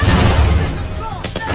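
Loud gunfire from a war-zone firefight in the film Children of Men, with heavy booming reports and a sharp burst near the end, mixed with shouting voices and dense ambient rumble.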